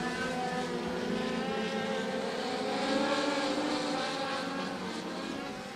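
Race cars roar around Maquoketa Speedway during an MLDS heat race, a continuous loud blend of engines holding steady and swelling slightly midway, with no talk over it.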